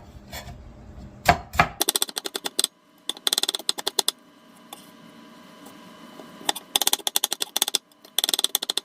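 Onions are sliced with a knife on a board for a pork and tofu dish, giving rapid runs of crisp, close chopping taps in bursts separated by brief pauses.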